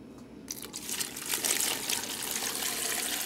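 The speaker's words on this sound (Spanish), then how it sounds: "Son 2 litros de agua que tengo aquí." Two litres of water poured onto pineapple peels, piloncillo and cloves to make tepache, a steady soft splashing trickle with faint crinkling, close and fairly quiet with no talk.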